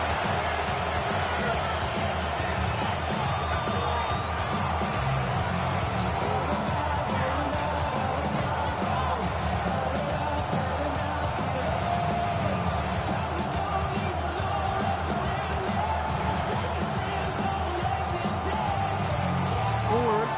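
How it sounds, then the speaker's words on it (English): Crowd noise from a Madden football video game, with a steady, dense roar of a stadium crowd in the fourth quarter on third and long, continuous and loud throughout. "This crowd turning up the decibel level."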